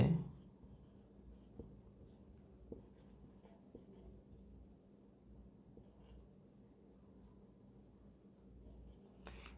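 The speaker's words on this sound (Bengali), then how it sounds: "এটা লিখলাম" Pen or marker writing during a physics lecture on one-dimensional motion, made up of faint scratchy strokes in short bursts and heard close against a quiet room.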